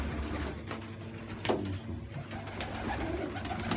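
Pigeons coo softly and steadily at close range around a nesting pair with eggs, low murmuring calls over faint background noise.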